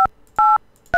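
Three separate touch-tone beeps dial a phone number in the video game Cosmic Osmo, each a sharp dual-tone burst with short gaps between them, loud and clear, with no talking.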